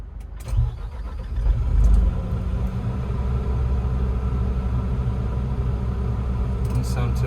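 A big shovel's diesel engine runs steadily with its cooling fan flat out on a still, overcast day, a loud continuous low rumble and roar after a brief surge near the start, with faint clinks toward the end.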